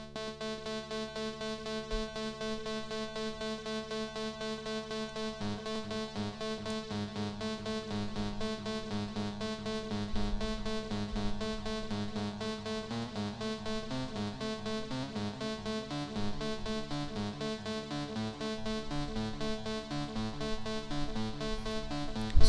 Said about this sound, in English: one oscillator going into a Trautonium filter